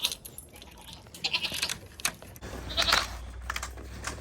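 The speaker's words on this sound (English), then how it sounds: "let's feed some of these noisy critters. Not that the pigs aren't, but let's feed some of these goats." Goats bleating at feeding time on a farm with pigs nearby, several short, fairly close calls rising over rustling and clatter, with no talking.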